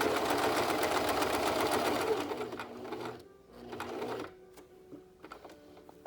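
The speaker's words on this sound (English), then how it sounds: "We're gonna sew down." Sewing machine stitching a no-fog face mask, a close, rapid mechanical whir that runs steadily, then stops and restarts in shorter bursts with clicks and pauses.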